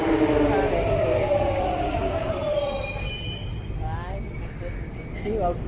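London Underground Tube train pulling into a station near Canary Wharf, a loud rumbling approach with high, sustained wheel squeals and brake whines rising as it slows, heard up close on the platform.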